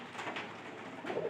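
A pair of pigeons giving a soft, low, steady coo, close by and fairly quiet, with no speech over it.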